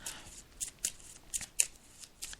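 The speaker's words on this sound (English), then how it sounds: "Rita, so I'm just shuffling the cards." Tarot cards riffled and shuffled in a series of crisp, papery bursts, close and fairly quiet, with soft handling noise between them.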